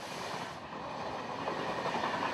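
A train on a record-breaking run makes a steady, continuous rumble and rush of wheels on rails, evenly sustained and moderately faint throughout, with no voices.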